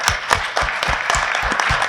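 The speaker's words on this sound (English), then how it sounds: "Can we give Jane a round of applause for all her years of service here?" An audience applauds a retiring colleague at an annual digital transformation council meeting, with dense, steady clapping from a room full of people that holds at an even level for about two seconds.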